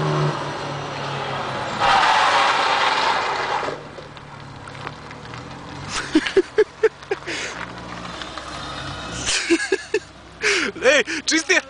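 A Ford Taunus revs hard during a burnout, the engine roaring loud and broadband early on before the sound breaks into uneven bursts and rev pulses, with people talking nearby.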